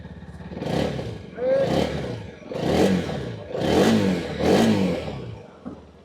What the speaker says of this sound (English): that is what the exhaust sounds like